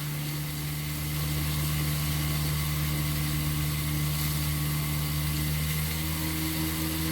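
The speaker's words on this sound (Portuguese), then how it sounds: "vou aumentar um pouco a tensão aqui para ver se eu consigo fazer esse motor girar mais rápido" A homemade single-phase brushless motor runs on a bench as its voltage is raised, giving a steady high-pitched whine and hum that holds even and continuous.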